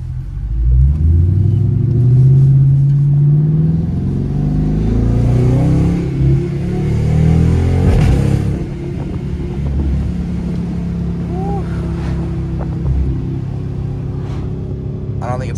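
A 2019 Dodge Charger R/T engine in a hard pull, loud rising revs and deep exhaust rumble heard from inside the car, settling into a steadier drone toward the end.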